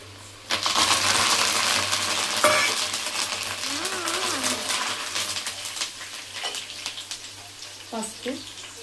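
Curry leaves hit hot oil for tempering a mango peel pickle and burst into a loud crackling sizzle that slowly settles, with a few stirring scrapes and clinks.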